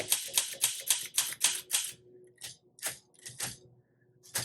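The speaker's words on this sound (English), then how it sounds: "you do need to hit the keys pretty hard" Keys strike hard on a blue 1962 Olympia SM7 manual typewriter, a quick run of sharp, loud, close clacks followed by slower, irregular strokes with pauses, no voices.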